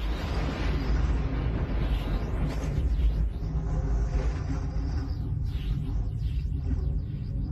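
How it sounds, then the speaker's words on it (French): Thunder from an electrical storm on Jupiter as a documentary sound effect: a deep, continuous rolling rumble with swelling bursts, heard alone at moderate loudness. "Tous ces nuages agités ont déclenché un orage électrique."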